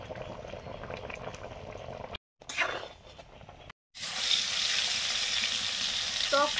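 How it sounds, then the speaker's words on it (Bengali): Spiced water of ground roasted cumin, coriander and garam masala pours into a hot pan for a snakehead fish curry, with a bubbling, hissing rush rising after a couple of brief gaps and holding steady and close. "আগে প্রথমে মশলার জলটা দিচ্ছি।"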